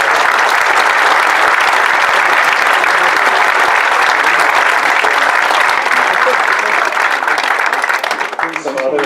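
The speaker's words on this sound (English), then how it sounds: "So if you please applaud those people" Loud, dense applause from a crowd at an annual parade of bands event, sustained steadily for several seconds before starting to thin out at the end.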